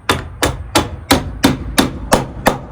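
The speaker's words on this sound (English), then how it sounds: "Hammer this in, and then squeeze" A hammer strikes a metal deck bracket tab eight times in a quick, steady rhythm, each blow loud, sharp and close with no talking.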